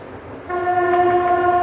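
A train in the Carpathian mountains near Rakhiv sounds a long, loud horn that starts abruptly and holds a steady multi-tone chord over a low rumble of rolling cars, heard alone.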